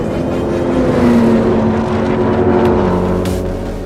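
A Corvette drag racing against other luxury cars, its engine droning loud and steady as it accelerates, with pitch shifting through gear changes and no one talking.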